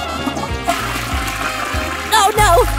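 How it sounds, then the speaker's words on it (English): Water rushes and splashes in a toilet flush, loud and close, building toward the end under a busy music bed. "Now let's flush!"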